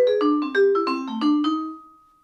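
A bebop lick played completely dry on mallet percussion: about eight short, crisp, detached notes in a quick run, the last one ringing out briefly before fading, alone and close.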